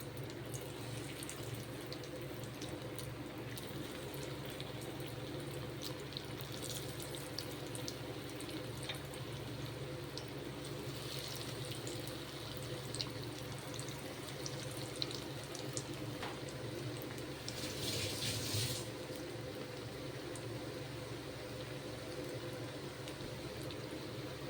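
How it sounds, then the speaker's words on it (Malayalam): Chicken cutlets fry in hot oil with a faint, steady hiss and bubbling, low and continuous, with a brief louder burst of spattering near the end. "എണ്ണ ചൂടായിട്ടുണ്ട്. ഇനി നമുക്ക് അതിലേക്ക് കട്ട്ലേറ്റ് ഇട്ട് കൊടുക്കാം."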